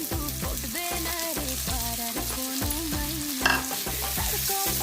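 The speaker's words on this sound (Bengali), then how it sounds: "পেঁয়াজটা আমার হালকা ভাজা হয়ে গেছে, এর মধ্যে আমি এখন একটা টমেটো কুচি দিয়ে দিচ্ছি।" Chopped tomato and onions sizzle and crackle in a hot pan while a rhythmic tune with a steady beat plays loudly over it.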